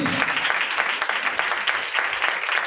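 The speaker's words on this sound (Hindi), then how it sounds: "जोरदार तालियां, खुशी से" A worship congregation claps loudly and continuously. The many hands blend into a thick, even roar of close applause.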